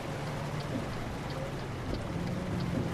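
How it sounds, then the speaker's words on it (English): Heavy rain in the Euro Truck Simulator 2 truck-driving game patters steadily in a dense, even hiss with a low engine drone underneath, quiet and without talk. "And it's pissing it down with rain, of course."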